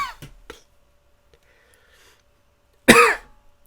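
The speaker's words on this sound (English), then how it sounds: "It didn't even cure my cough." A single loud, harsh cough bursts out near the end, preceded by a couple of faint throat sounds and breaths in an otherwise quiet room.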